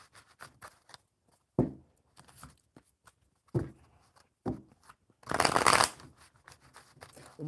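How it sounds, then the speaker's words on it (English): A deck of cards is riffled and bridged several times in separate short bursts, close and crisp against quiet, with the last shuffle the longest and loudest. "One more good shuffle."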